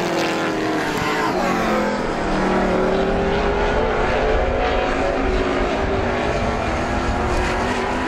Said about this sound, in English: only 4 cars left on the track, and they are stringing it out just a little bit right now